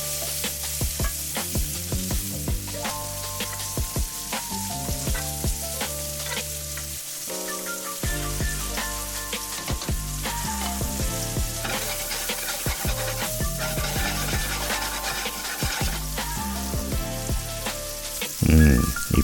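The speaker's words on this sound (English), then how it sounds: "we're going to add the diced tomatoes. Let that continue to simmer." Diced tomatoes simmering and frying in a pan make a continuous bubbling sizzle with stirring clatter, set under steady tonal background music that briefly drops out midway.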